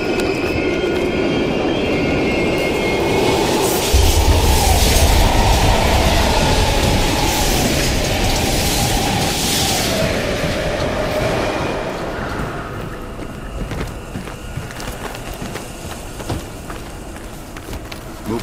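A train passes through an abandoned East Berlin station in Call of Duty gameplay, a loud rumbling roar with rattling wheels and a rising then falling whine before it fades into quieter rattling, with no speech.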